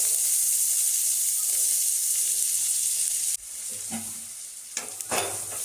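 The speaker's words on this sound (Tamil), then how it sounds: "நம்ம சின்ன சின்னதாக வெட்டி வச்ச வெங்காயத்தை சேர்த்து நல்லா வதக்கிக்கலாம்" Chopped onions hit hot sesame oil in a pan after mustard seeds, starting a loud steady sizzle with stirring scrapes and clatters over a constant frying hiss.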